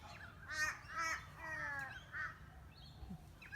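Several slowed-down crow-like caws, drawn-out and harmonic, come in a run of about four calls, moderately loud, followed by fainter chirps at the end.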